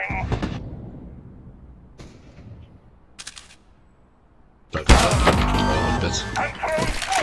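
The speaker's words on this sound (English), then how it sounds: "I'm throwing a flashbang." A flashbang grenade in Counter-Strike: Global Offensive: a few short clanks of the throw and bounce, a quiet gap, then a sudden loud blast with a ringing wash that lasts to the end.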